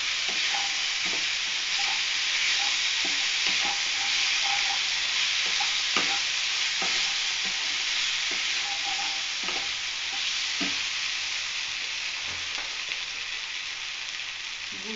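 Ginger paste and meat masala fry in a pan with a loud, constant hissing sizzle, punctuated by regular soft scraping strokes of stirring, without speech.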